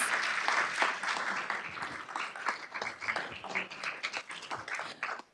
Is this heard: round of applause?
yes